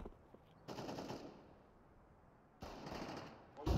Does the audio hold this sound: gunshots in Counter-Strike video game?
yes